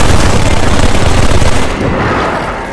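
Nonstop gunfire in a Garry's Mod Halo Flood mod game, a loud, dense roar of overlapping shots that barely eases for nearly three seconds.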